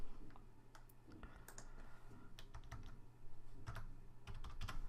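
Rapid typing on a computer keyboard during an accounting lesson, with steady clusters of light key clicks and taps running throughout over a constant background hum, no talking.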